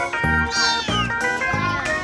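A stray kitten meows three times in quick succession, loud and close, each cry high and rising, with nothing else heard around it.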